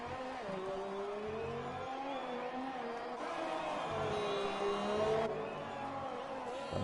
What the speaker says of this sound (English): Alton's car does not sound good.